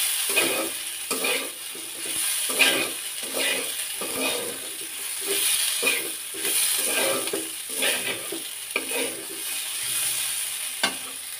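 Bottle gourd peel frying in oil in a pan, a continuous sizzle broken by a regular series of stirring scrapes and knocks, close and moderately loud, without talk.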